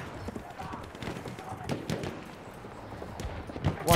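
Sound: horses galloping in a video game

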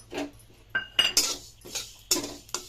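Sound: sesame seeds added and stirred in a pan

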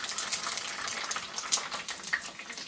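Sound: papad frying in a pan

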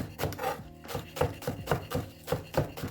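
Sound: knife chopping green onions

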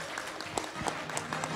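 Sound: audience applause at a panel event

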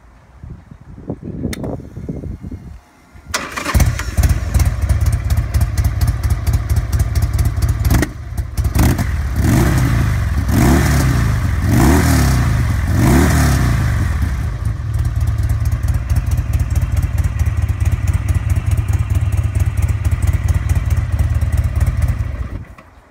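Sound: Buell custom motorcycle exhaust, engine revving

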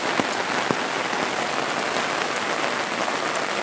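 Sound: rain falling in a forest with fog

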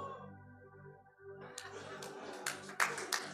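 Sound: audience clapping during a sermon

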